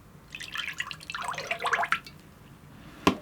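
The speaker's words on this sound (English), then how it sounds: "I think I'll add the oils in first" Oils pour and drip into a small crock pot for soap making, a short burst of close liquid trickling and splashing that fades, followed by a single sharp clink.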